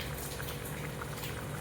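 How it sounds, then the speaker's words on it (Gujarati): Vegetable curry of peanut bhajiya shaak boils hard in a pot over a full flame, giving a steady, close bubbling and simmering hiss with no talk. "ચમચાને સાઈડમાં મૂકી ફ્લેમ આપણે ફૂલ રાખી અને એને ઉકળવા દઈએ થોડી વાર માટે"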